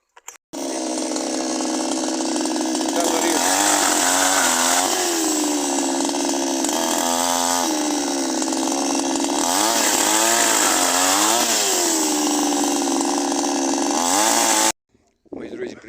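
A Sviatiaz petrol chainsaw cuts firewood with a loud, continuous, near engine snarl whose pitch sags and recovers as the chain bites into the wood, then cuts off abruptly near the end.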